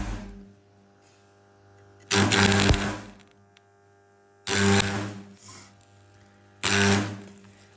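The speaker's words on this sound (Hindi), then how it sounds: "तो यहाँ पे इस पार्ट को वेल्ड कर रहे हैं" Welding a part on the turbo of a Toyota Fortuner 3.0 in a workshop: three loud, bursts of hissing, crackling arc noise, each lasting about a second, separated by quieter stretches of low electrical hum, close by with no talking.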